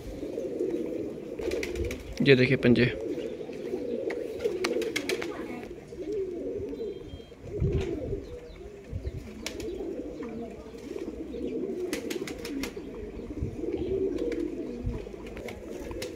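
Racing pigeons in a loft in R.S. Pura, Jammu and Kashmir, give a steady low cooing throughout, with someone speaking nearby.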